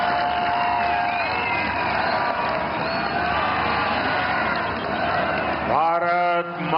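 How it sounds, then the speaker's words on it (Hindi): A large crowd at the Sikkim 50th statehood grand finale in Gangtok cheers and claps in a loud, continuous roar, with a voice rising over it near the end. "पूरे उत्साह, जोरदार तालियों के साथ"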